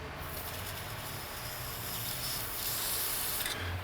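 Penetrating lubricant sprayed around the base of an exhaust header on a 1990–2001 Acura Integra, a steady close hiss that holds for a few seconds and swells slightly near the end, with no talking.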